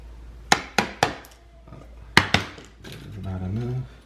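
A screwdriver strikes a baseboard while notching it during a custom door installation: sharp, close knocks, three in quick succession and then two more, followed by a person speaking.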